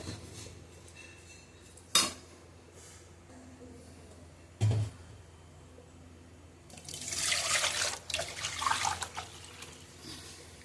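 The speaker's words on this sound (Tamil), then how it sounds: "அதே ஒரு கப்பு வந்து தண்ணி வந்து ஊற்றிடுங்க" Water poured onto soaked rice while making mushroom biryani, a gushing splash arriving late after a couple of sharp clinks of kitchen utensils against metal pots, fairly close and moderately loud.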